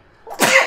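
A single person sneezes during a tabletop gaming podcast recording: a brief intake, then one loud, sharp sneeze close to the microphone that tails off quickly.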